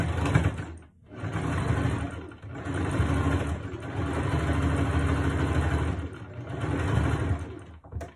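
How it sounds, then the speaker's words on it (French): A sewing machine overlocks the edge of a fabric strip for an off-the-shoulder Bardot top, running in steady continuous bursts with brief pauses between runs, loud and close. "Maintenant, on va surjeter."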